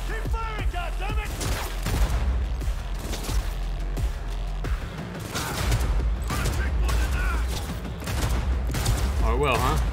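Gunfire rattles through a firefight in Cyberpunk 2077, loud and continuous with overlapping bursts and mechanical clatter, while game voices shout over the shooting.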